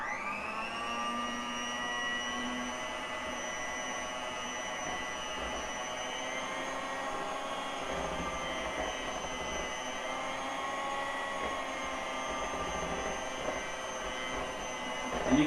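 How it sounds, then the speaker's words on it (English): A hand-held electric mixer runs steadily through lemon bundt cake batter as sugar is added, giving a continuous whirring motor hum with a high whine that holds even and fairly loud throughout, with no talking. "Now we're going to mix it up again."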